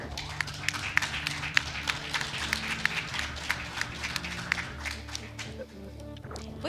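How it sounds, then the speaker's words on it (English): A crowd at a speedrun event applauds the event videographer with sharp, uneven claps that patter over a low room hum and a faint murmur of talk, tapering off near the end. "So 1 round of applause for Bernie as well"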